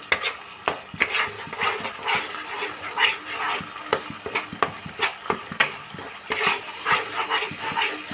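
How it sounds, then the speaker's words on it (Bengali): Spice paste stir-fried on high-to-medium heat for matar paneer, a close sizzle broken by repeated sharp scrapes and taps of a spatula against the pan, roughly once or twice a second. "এবার আমি সুন্দর করে মশলাটা আমি কষিয়ে নিচ্ছি হাই টু মিডিয়াম আঁচে।"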